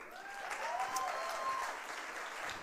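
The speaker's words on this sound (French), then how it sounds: "Est-ce qu'on peut les applaudir?" An audience applauds at a youth gathering, a fairly quiet, even wash of clapping from a crowd, with a brief whistle-like tone in the background.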